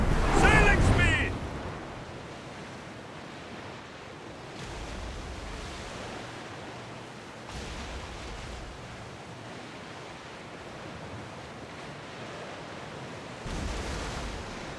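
Ship sailing through rolling ocean waves in Assassin's Creed Odyssey, a steady wash of surf and wind noise with swells rising every few seconds, after a brief loud burst at the start.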